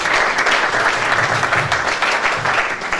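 Church congregation applauding during a French-language worship service, a steady wash of clapping from many hands that fills the room for the whole stretch, loud and continuous without pause.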